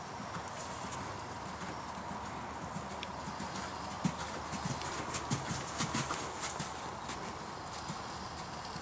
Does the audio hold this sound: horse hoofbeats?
yes